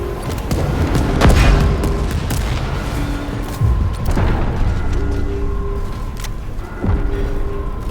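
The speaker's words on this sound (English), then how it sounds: "I think there was some explosion" Explosions in Halo Infinite aboard the Warship Gbraakon: several deep, loud booms roll out one after another, each followed by rumbling debris and lingering reverberation, with no talking.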